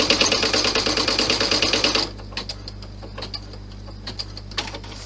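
A sewing machine stitches pieces of a large clutch bag, a fast, steady mechanical chatter for about two seconds, then stops, leaving faint scattered clicks and handling noises over a low hum.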